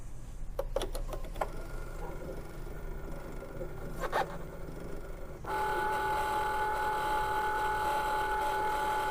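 Rollers of a Cricut cutting machine turning while being cleaned, first giving brief rattling clicks, then a steady mechanical whirring hum that starts partway through and keeps running.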